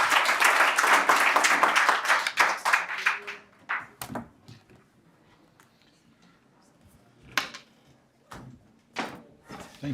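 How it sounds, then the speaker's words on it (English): Applause at an AI meetup, a short run of clapping that fades within a few seconds, followed by scattered isolated claps and quiet room noise. "please give a round of applause to Arthur Machado."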